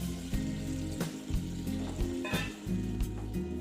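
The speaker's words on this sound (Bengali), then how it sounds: "গরম জল অ্যাড করছি" Hot water is poured into a frying Koi fish curry, a bubbling sizzle with repeated knocks of a utensil against the pan, close and moderately loud.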